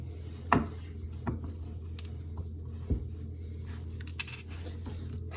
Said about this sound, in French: je viens de couper ma première moitié de fourme. Tac, vous voyez, en petits morceaux